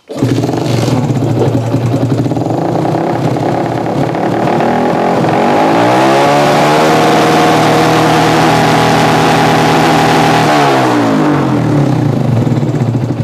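Yamaha Jupiter MX motorcycle engine that stalls and starts hard, starting and running loud and close, a steady rumble that rises in pitch midway as it revs, then settles back down.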